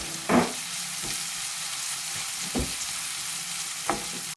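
Salted onions soften in a pan for tuna roast, sizzling in a steady close hiss punctuated by a few short scraping stirs, with no one speaking.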